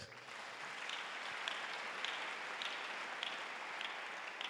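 A church congregation applauds in a steady wash of clapping, even and fairly faint throughout, with scattered sharper claps standing out and no talking.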